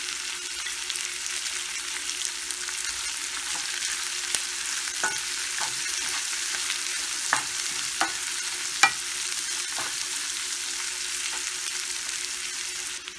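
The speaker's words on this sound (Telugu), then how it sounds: "ఆనియన్స్ ఫ్రై అవుతున్నాయి కదా, ఇప్పుడు పసుపు యాడ్ చేసుకుందాం." Onions with green chillies fry in a pan for a French beans stir-fry, a steady close sizzle with occasional sharp clicks and scrapes of stirring; no speech.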